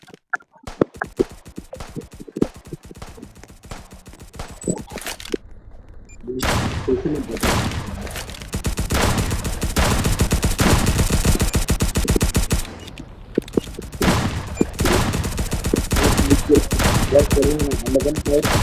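Rapid gunfire bursts from a Roblox prison roleplay video game, dense automatic volleys crackling on and off through the whole stretch, loud and close, with heavier sustained firing in the second half.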